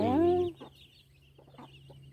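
A loud hen's cluck or squawk opens, then faint chick peeps and soft clucks follow over a steady low hum, from a group of home-raised hens and their newly hatched chicks gathered together.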